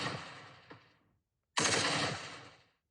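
Two bursts of synthetic gunfire for a Procreate Dreams animation: a rapid machine-gun rattle that fades out, a brief silence, then a louder, denser volley that tails off, heard alone with no talk.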